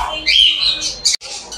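Budgerigars at a bird farm and shop squawk and chirp in short, sharp bursts close by, several shrill calls overlapping.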